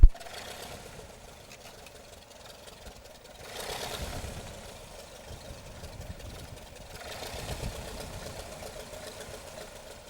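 The engine of a De Havilland Tiger Moth biplane chugs steadily as it taxis at an airfield, a low, uneven drone that swells twice.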